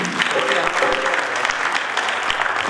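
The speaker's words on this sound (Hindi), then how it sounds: "तो एक बार जोरदार तालियां हम सबसे पहले चाहेंगे महिलाओं की" Loud, continuous audience applause greets the women at an International Women's Day gathering at Audrey House, Ranchi, a dense wash of clapping hands that fills the whole moment.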